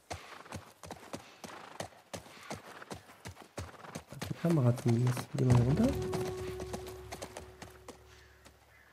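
Hooves clip-clop rhythmically as a horse is ridden in the video game The Last of Us Part 1, with a whinny midway and someone speaking German over the steady hoofbeats.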